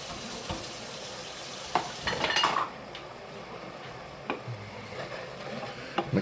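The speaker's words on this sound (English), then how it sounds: "Mix that all together." Drained kidney beans stirred into browning beef in a pot for one-pot chili: a soft, low sizzle under scattered clinks and scrapes of a spoon against the pot, with a cluster of louder knocks midway.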